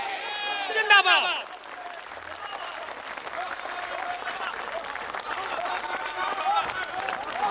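Applause from the crowd at a live political speech in Muzaffarpur, a dense steady clapping that swells and keeps going after a brief shout at the start.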